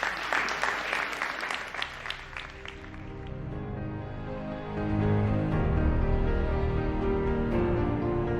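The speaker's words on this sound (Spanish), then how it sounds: "Muy bien, correcta la respuesta de Pablo, podemos aplaudirlo." An audience breaks into applause on a broadcast show, a dense wash of clapping with cheers that settles into a steady, warm roar, no clear talk over it.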